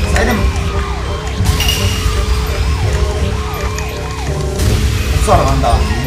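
A wailing, repeating siren effect from the KartRider kart racing video game, loud and up close, layered over game engine drone and music, with excited players talking over it.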